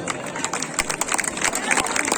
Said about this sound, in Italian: accogliamo con un applauso